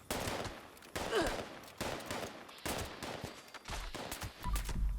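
Fairly quiet, repeated pistol gunfire from an anti-armor Crusader Pistol in the video game Fallout 76: several bursts of shots in quick succession, with no voices.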